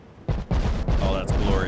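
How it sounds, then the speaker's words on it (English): Warship guns firing in the naval game Ultimate Admiral: Dreadnoughts, several deep booming shots in rapid succession, loud and close with a rumbling tail, a voice talking faintly underneath. "Let's go ahead and watch these guns firing."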